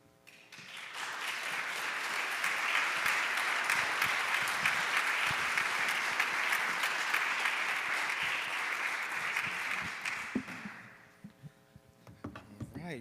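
Sustained audience applause at a college student recognition celebration, a thick wash of clapping that swells in, holds steady for several seconds, then fades to a few scattered claps.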